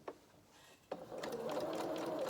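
A sewing machine stitches a 1/4-inch seam around the toe edge of a stuffed toy rabbit's limb. Two soft taps come first, then a steady close-up whir of stitching runs to the end, with no talk.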